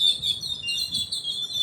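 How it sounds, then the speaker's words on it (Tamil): Small birds chirp and tweet continuously in a morning outdoor setting in Chennai, bright high calls layered over a faint low background murmur, fairly close and lively with no talk. "இதுக்கு இடையில இந்த பேர்ட்ஸ் பேசுறது இருக்கு பாருங்களேன்"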